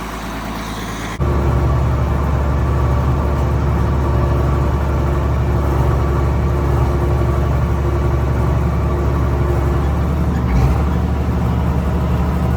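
A tractor engine runs steadily at a constant, loud drone while dragging a load with a chain out in a field being chiseled, with no talk over it.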